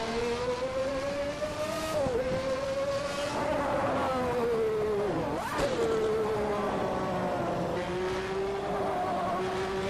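Simulated McLaren MP4/6 Formula One car at Imola pulls away from the pit limiter, its engine a loud, steady high-pitched howl that climbs and dips with each gear change, with brief tire scrubs and no voices.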